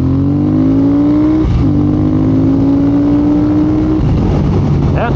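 A 2022 Triumph Speed Twin motorcycle engine with a new map revs loudly with rising pitch as it climbs through the gears, briefly drops, then pulls up again strongly.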